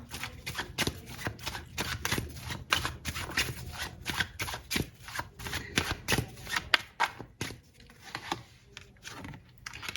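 Tarot cards shuffled by hand during a Hindi tarot reading: a dense, steady run of crisp riffling flicks and slaps, close and fairly loud, with no talking.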